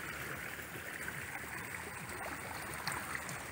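Floodwater drains off neighboring fields and flows into a pond, a faint steady rushing and gurgling stream heard from a distance, with no speech.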